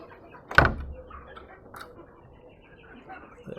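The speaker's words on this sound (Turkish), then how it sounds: "Kapıyı kapatalım." The door of a chicken coop swings shut with one sharp, close thud, followed by faint rustling and light clicks in a quiet space.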